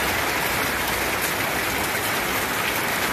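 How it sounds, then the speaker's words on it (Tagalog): Heavy rain pours steadily in a dense, even roar of drops hitting surfaces, loud and close with no letup and no voices. "Ito na naman po isang napakalakas na ulan."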